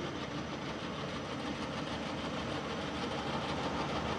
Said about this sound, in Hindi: Currently, the spindle is rotating at 570 RPM, and as you can hear, there is no noise in the spindle.